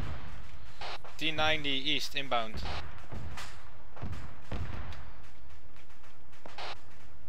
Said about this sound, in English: That explosion in front. Mortars.